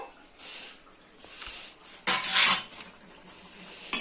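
A lid lifted off a pot of simmering mushroom and chatu curry, making soft metallic clinks and scrapes followed by a louder rattling clatter close by, with no speech.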